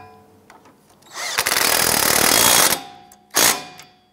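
Power tool run-down of a nut on a 2001–2007 Ford Escape strut assembly: a loud, near, buzzing whir lasting over a second, then a short second burst after a pause, with faint clicks around it.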